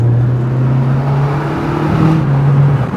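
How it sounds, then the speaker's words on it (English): An MG ZT 160 accelerating hard in second gear, its engine note rising steadily as a strong low tone that climbs in pitch, loud and close from inside the car, then easing slightly at the end. "Let's gun it a bit, shall we?"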